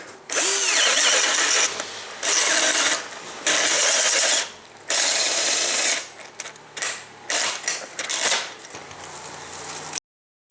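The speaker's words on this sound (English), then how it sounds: "Now I'm drilling the yoke hole." A power drill with a 1.5-inch bit bores the yoke hole in a simulator panel, loud grinding bursts starting and stopping several times, then shorter stuttering pulses before cutting off.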